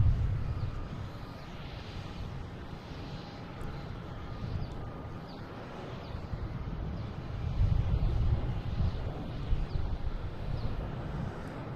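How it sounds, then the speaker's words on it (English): An airplane lands at Boston Logan International Airport, heard as a distant low jet rumble mixed with wind buffeting, which swells louder toward the later part. "We have a plane landing."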